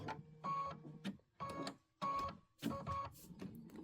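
Sewing machine stitching down a quilt block, running in several short bursts of rapid mechanical whirring separated by brief pauses, close and clear with no talking.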